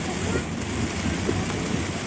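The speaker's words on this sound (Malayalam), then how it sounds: "ഒടുക്കത്തെ മഴയാണ്" Heavy rain falls in Australia along a road heading down a hill, a dense steady hiss with no breaks.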